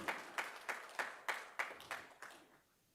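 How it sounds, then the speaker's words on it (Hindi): Audience applause at a parliamentary awards ceremony, heard as a series of about eight evenly spaced clap-like bursts that fade toward the end, fairly faint and with no talk over them. "ऐसे एपीजे अब्दुल कलाम साहब को जोरदार ताली बजा के हमें स्वागत करना चाहिए।"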